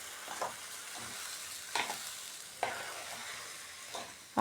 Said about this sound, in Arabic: هقلبه في بعضه كده اهو عشان يشرب الزيت ويبقى مفلفل